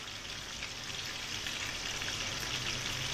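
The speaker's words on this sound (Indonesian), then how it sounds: "Bibik sedang menggoreng ikan." Fish fries in a hot pan for a kway teow fish soup, a constant crackling sizzle that stays close and even throughout.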